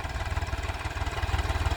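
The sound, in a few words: Swaraj 735 FE tractor engine running at low RPM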